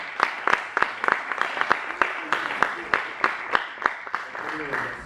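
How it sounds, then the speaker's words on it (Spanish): Audience applause from a crowd at a WordPress conference talk, a dense steady patter of many hands clapping with a few sharper individual claps standing out, filling the room for several seconds. "os pido un fuerte aplauso para Gorka Goikoetxea"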